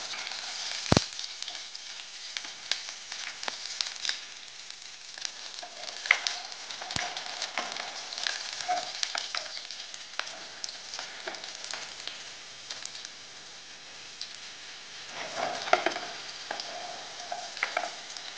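Garlic sautéing in a pan, a steady soft sizzle with light stirring and occasional scraping clicks, fairly even and moderately quiet throughout, no talking.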